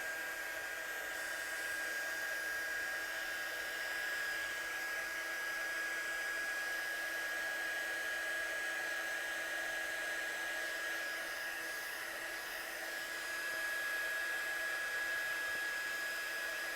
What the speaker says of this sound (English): So I'm just gonna dry this off.